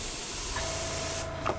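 An airbrush sprays Vallejo primer onto a BT-7 tank model, a loud continuous close hiss of air that cuts off abruptly near the end.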